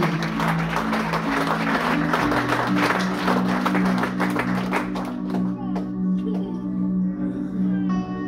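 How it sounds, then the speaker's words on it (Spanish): A church congregation at a general vigil claps together in a thick wash of applause that thins out and fades, leaving sustained held tones ringing beneath. "Denle el aplauso al Señor si es para Él"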